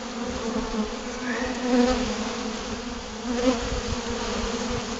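A close, steady drone of many honey bees buzzing together at an open sugar syrup feeder, swelling slightly at moments, with no talking.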